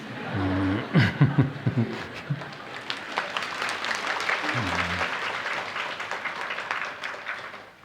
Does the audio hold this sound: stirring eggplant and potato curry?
no